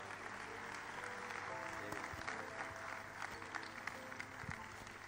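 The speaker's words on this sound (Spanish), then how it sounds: "Un aplauso, por favor." Audience applause at a church talk on political criteria rolls on steadily at moderate loudness, a soft continuous patter of many hands with a low hum beneath and a few sharper claps standing out.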